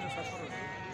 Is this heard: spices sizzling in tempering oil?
no